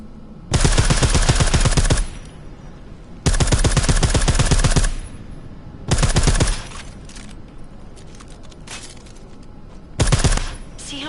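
Silenced gunfire from Deus Ex: Mankind Divided arrives in three long rapid bursts and a short final one, loud and near, with quieter ambient gaps between them.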